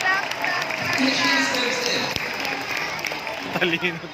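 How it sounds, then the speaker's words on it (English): Audience applause at an animal show at Manila Ocean Park, a steady wash of clapping for a performing animal, loud and sustained, with voices and crowd noise mixed in. "How about a applause for Isis, the prettiest."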